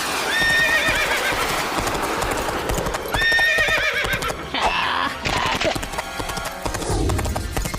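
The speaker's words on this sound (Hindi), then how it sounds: "अरे ये घोड़े आसमान में कैसे दौड़ रहे हैं?" Cartoon horses neigh repeatedly and hooves clip-clop at a gallop, loud and busy, with whinnies rising over dense hoofbeats and a brief voice mixed in.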